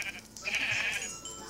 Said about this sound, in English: Now I have to kill this here other sheep.